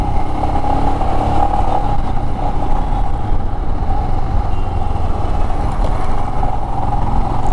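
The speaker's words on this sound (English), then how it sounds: "we were at third gear, under 40 kilometers per hour, and just picked it up" A Royal Enfield Himalayan BS6 motorcycle engine runs steadily and loud in third gear under 40 km/h, with a constant mechanical drone and no clear rise in pitch.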